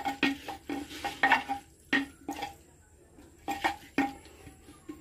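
Local chicken being stirred in a clay pot, a series of short scraping and clattering strokes of a utensil against the pot with soft sizzling between, fairly close and moderately quiet.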